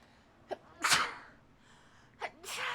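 A sneeze during a tabletop roleplaying podcast session: a small catch of breath, then a loud burst, followed by a second short intake and another sneeze, close to the mic in a quiet room.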